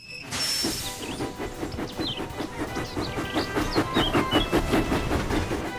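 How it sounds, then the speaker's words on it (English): A cartoon steam engine puffs in a rapid, even chuffing rhythm with a constant hiss of steam, a brief whistle-like tone near the start, loud and close throughout. "James puffed proudly into the steamworks."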